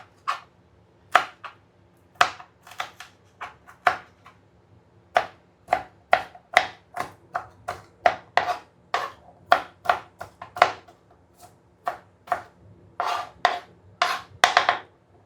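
Onions being chopped with a knife on a board, a series of crisp close knocks in an uneven rhythm, sparse at first then quicker and clustered toward the end.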